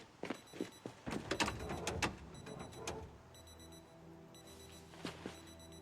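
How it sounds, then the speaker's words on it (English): Electronic wristwatch alarm in Project Zomboid, a run of thin, high repeating beeps sounding from about the midpoint onward over low game ambience, after some scattered clicks and knocks. "That is the sound of somebody with a watch."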